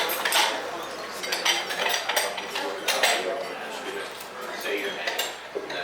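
Cutlery and dishes clinking as diners eat salad and soup at a general meeting and dinner, frequent light clinks and scrapes under a murmur of room chatter.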